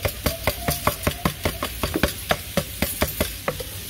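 White rice stirred into hot melted butter in a pot, a run of sharp spoon scrapes and taps in irregular rhythm over a soft sizzle, close up and with no talk.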